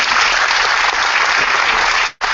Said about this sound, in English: Can we have a round of applause for this young woman?